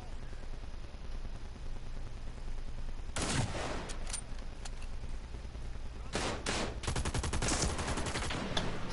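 Gunfire in an online shooter video game, quiet ambience followed by sudden bursts of rapid shots and sharp cracks, the last burst a fast automatic string, loud and close.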